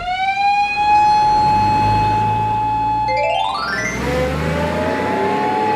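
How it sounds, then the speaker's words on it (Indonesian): In a cartoon, a police car siren holds a steady high wail, then sweeps up and down in a rising and falling tone over a low vehicle rumble, loud and close, with no talking. "Suara itu bukannya mobil polisi."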